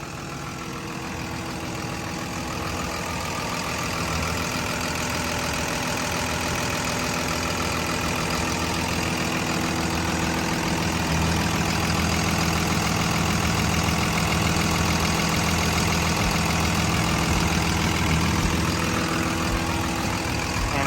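The six-cylinder turbo diesel engine of a Komatsu WA320-7 wheel loader idles steadily for about twenty seconds, a constant low rumble with a faint high whine, and no talking.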